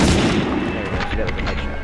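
Gunfire from the PS1 video game Medal of Honor, a rapid run of sharp crackling shots from a rifle in quick succession, loud and close throughout the short burst.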